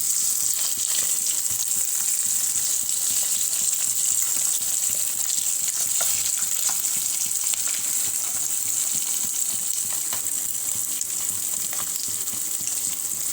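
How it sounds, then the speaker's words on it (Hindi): Fish frying crisp in hot oil, a dense, steady, close sizzle that holds evenly throughout with no talking. "क्रिस्पी फ्राई हो गई है हमारी फिश।"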